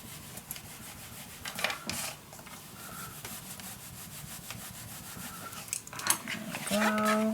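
Paper letters being burnished down onto a craft mini album, with repeated soft rubbing and scraping strokes close by, plus a few light taps and handling noises.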